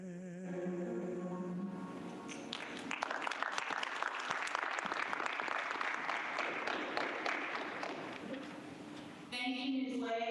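Audience applause at a community ceremony honoring local African American heroes, a dense, steady clapping that swells in after a brief spoken lead-in and runs for several seconds before a voice returns at the end.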